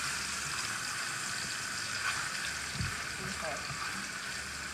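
Garlic sizzles in a frying pan with a steady, even hiss of hot oil, a soft knock of a utensil stirring near the end, with no talking over it.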